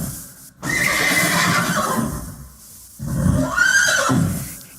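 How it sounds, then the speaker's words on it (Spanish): A horse neighs loudly in two long whinnies separated by a short pause, close and clear with no talking. "¡Es un caballo!"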